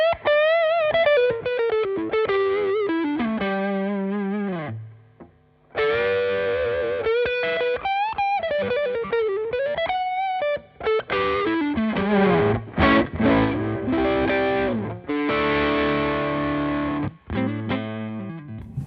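Electric guitar through an Elektron Analog Drive pedal playing a lead lick, gritty and sustained, with bent notes and quick runs, a brief pause partway through, no talking.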